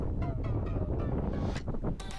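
Gusty wind buffeting a microphone outdoors in Edinburgh, a loud low rumble with uneven blustery surges and a few sharper gust peaks, continuous throughout and with no voice over it.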